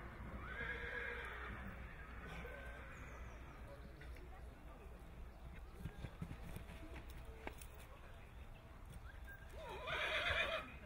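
A light racehorse trots at a jumps-horse auction, its hooves clip-clopping at a steady pace under an auctioneer's continuous talk, and a sharp whinny rises near the end.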